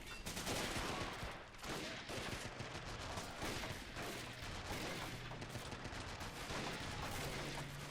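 Sustained anti-aircraft gunfire in the Men of War game, the AA gun hammering away at infantry on a Guam beach assault, loud continuous bursts with dense battle noise filling the whole stretch.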